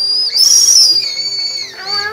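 A Japanese candy whistle, a chunky ring-shaped sweet, blown in a few shrill high-pitched toots that waver slightly in pitch, loud and close, with no talking.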